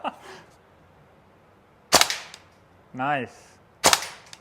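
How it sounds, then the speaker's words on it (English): A Tokyo Marui AKM gas blowback airsoft rifle fires three sharp, separate shots with even gaps between them. Someone speaks briefly between the shots. "I'm shooting Kalashnikov, right?"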